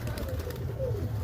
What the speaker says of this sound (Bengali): এই যে আমার পায়রাগুলো দেখছেন নামছে।